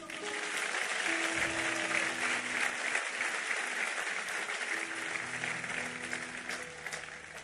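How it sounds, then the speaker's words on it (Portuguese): A church congregation claps for God at the close of a sermon, a steady wash of applause from many hands while faint tonal music or voices linger underneath. "Vamos aplaudir a Ele."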